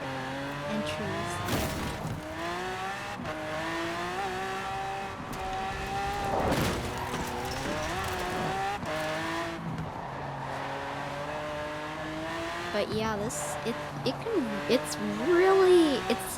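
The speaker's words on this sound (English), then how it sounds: "its engine's really loud." In the Forza Horizon 4 racing game, a Lamborghini Veneno's engine revs and shifts with rising and falling pitch and occasional tire squeal, under steady conversation between players.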